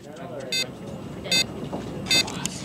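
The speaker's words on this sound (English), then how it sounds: "it's giving a single beep repeatedly to indicate that there's one mine around us" A MineMaze game device emits a single short electronic beep, repeated three times at even intervals, rising over a noisy indoor background.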